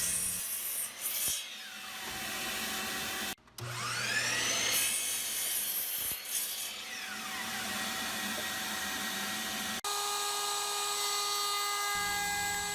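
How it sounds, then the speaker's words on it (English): Power saw cutting wood armrest pieces for two garden benches with a hidden storage compartment: a steady loud whine with rising and falling pitch sweeps and brief pauses between cuts, no talk. "And here I am cutting out the remaining of the components for the armrest assembly for both benches."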